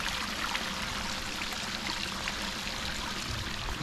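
Water cascades from a hot tub into a pool in a backyard, a steady, dense splashing rush that stays constant and close throughout.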